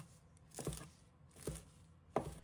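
A knife chops fresh coriander into short pieces on a cutting board, three distinct close thuds spaced evenly apart against a quiet background.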